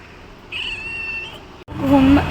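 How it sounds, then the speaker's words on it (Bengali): A cat meows twice: a drawn-out mew, a short pause, then a louder second meow, heard close by over faint background noise. "শুধু ম্যাও ম্যাও করে, তাই তো?"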